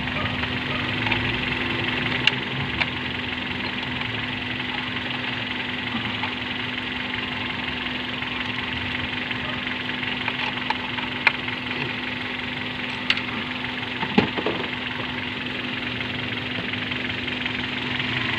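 A Hyundai Grand Starex gasoline engine idles steadily nearby with an even hum and faint ticking, broken by a few light knocks and clicks, and a voice briefly speaks over it.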